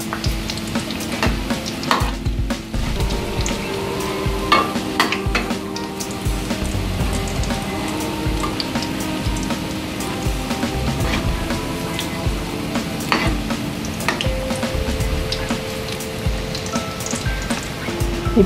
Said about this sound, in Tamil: இப்போ காலிஃப்ளவர் ஒரு சைடு வெந்துருச்சு, இன்னொரு சைடு திருப்பி போட்டுக்கலாம்